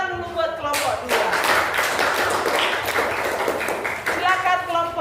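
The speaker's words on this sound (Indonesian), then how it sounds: "Tepuk tangan dulu buat kelompok 2." A classroom of junior high students claps for a presenting group, dense sustained applause filling most of the moment, with voices heard at the start and end.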